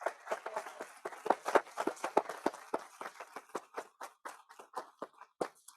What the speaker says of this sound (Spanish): quería pedir un aplauso a Francisco, a Marcela, Jorge